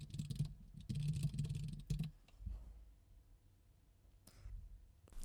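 A short burst of typing on a computer keyboard, quick clustered key clicks close by, then a pause with faint scattered taps afterward.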